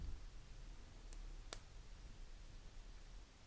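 Two sharp plastic clicks as pieces are pulled off an Artistic Wire 3D bracelet jig, the second louder, over a quiet hiss with no talking.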